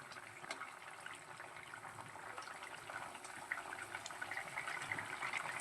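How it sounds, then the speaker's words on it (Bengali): Soft, steady bubbling and simmering rises gradually as lentil fritters (matar dal bora) cook in a sour tok curry with vegetables in a pot, faint and uninterrupted, with no voice. "বড়াগুলো দিয়ে একটু ফুটিয়ে নেব।"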